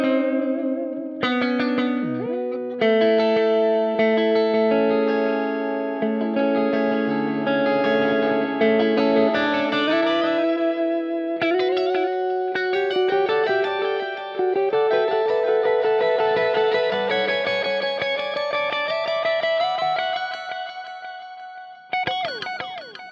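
Line 6 DL4 MkII pedal on its harmony delay setting: a sustained, effects-laden guitar line with pitch-shifted harmony echoes stacked on each note, loud and continuous, dipping briefly near the end before resuming.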